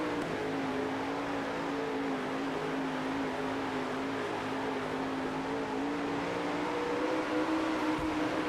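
Dirt race car engines in the World of Outlaws dirt racing video game drone steadily throughout, a sustained high engine note holding at an even pitch with dense mechanical roar and no speech.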